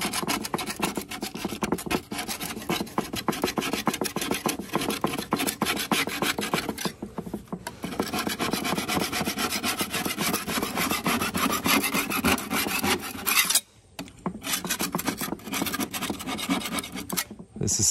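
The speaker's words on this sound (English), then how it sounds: "All you want to do is scrape it as best you can." Old gasket material is scraped off the rim of a Big Green Egg ceramic grill in long, rapid rasping strokes, loud and close with brief pauses between runs.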